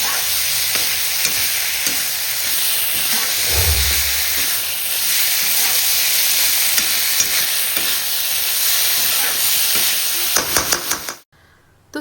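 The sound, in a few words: vegetables sizzling while tempered in a wok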